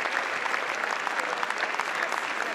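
Continuous applause fills the French National Assembly chamber, an even, moderately distant wash of clapping from many deputies with faint crowd sound mixed in.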